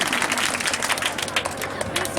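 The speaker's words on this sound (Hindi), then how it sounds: "जोरदार ताली" An audience at a Children's Day program held at a coaching class claps loudly and densely, a close, continuous patter of many hands.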